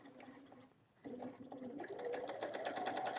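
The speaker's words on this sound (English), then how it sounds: "So I'm going to start with a couple of stitches and a very generous back stitch." A sewing machine runs in short bursts while stitching fabric with back stitches for elastic shirring, pausing briefly then running steadily and louder with a rising whine, close and alone.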